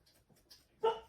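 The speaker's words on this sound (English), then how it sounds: "you'll have to pardon my dogs woofing in the background" A dog barks once, loud and close, after a few faint yips and whimpers in the background.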